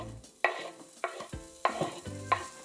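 Chopped onions dropped into hot coconut oil in a pot, giving a few sharp clattering stirs and scrapes over a soft crackling sizzle, close and moderately loud with no talking.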